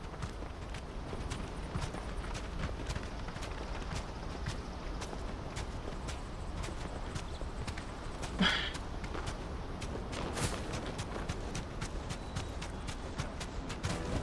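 Horse hooves clip-clopping in the Final Fantasy XVI video game, a steady quiet walking rhythm of hoofbeats over faint game ambience, with a couple of brief louder knocks.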